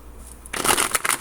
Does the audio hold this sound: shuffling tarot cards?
yes